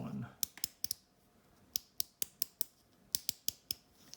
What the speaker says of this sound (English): So it just ratchets up and down, just like anything